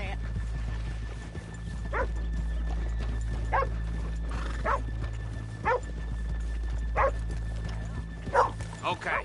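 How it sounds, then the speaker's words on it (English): Horses standing off a main street whinny and snort in short bursts, with the odd hoof clop, close by over a low constant hum while people talk. "Let's leave the horses here off the main drag."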